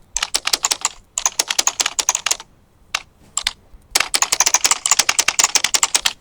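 Rapid keystrokes on a computer keyboard entering a channel name, close and crisp, in several bursts separated by short pauses, with no voices.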